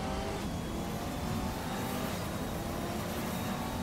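A fast car in a video game holds a loud, steady engine roar throughout, a constant droning rev with no breaks and no talk.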